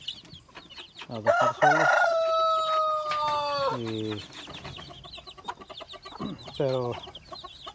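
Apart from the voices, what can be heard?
chickens clucking and rooster crowing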